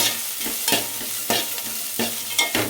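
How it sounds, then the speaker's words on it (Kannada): Green chillies fry in a pan with a steady sizzle while a utensil scrapes and stirs in regular strokes, close and clear with no talking. "ಇದನ್ನು ಕೂಡ ಸ್ವಲ್ಪ ಫ್ರೈ ಮಾಡಬೇಕು ಚೆನ್ನಾಗಿ."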